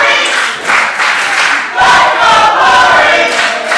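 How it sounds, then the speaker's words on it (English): A wrestling event crowd cheers and roars loudly in a large venue, with bursts of shouting swelling in waves over a few seconds. "Well, the crowd firmly behind Dillinger."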